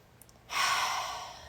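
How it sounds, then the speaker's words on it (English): A single long, deep breath let out in one close, airy exhale after a brief quiet moment, starting strong and slowly fading. "You just take those deep breaths"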